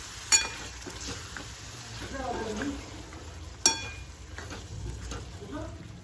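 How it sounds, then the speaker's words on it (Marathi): Mutton for a traditional home-style mutton curry stirred in hot oil: a steady sizzle of frying with the scrape of a spoon and a couple of sharp metal clinks against the pot. "मटनला चांगलं तेल सुटलेलं आहे या स्टेजमध्ये मी याच्यामध्ये मटण मिक्स करून घेते"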